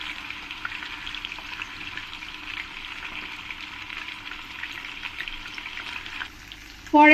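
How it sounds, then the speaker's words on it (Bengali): Chicken pieces fry in a pan with a strong, steady close sizzle and some stirring, easing slightly near the end before a brief loud clatter. "চিকেনগুলো আমি ভালো করে ফ্রাই করে নিয়েছি"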